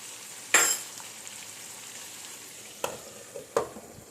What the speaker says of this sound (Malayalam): ഇങ്ങനെ വെച്ച് തീ കുറച്ച് വെച്ച് വറുത്തെടുത്താൽ മതി